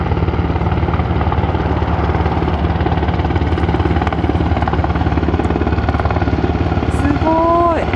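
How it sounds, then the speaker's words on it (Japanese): A helicopter flies overhead at night in Yokosuka, its loud, steady rotor chop continuous and near throughout, with a brief rising tone near the end. "ヘリも今ね飛んできてます。"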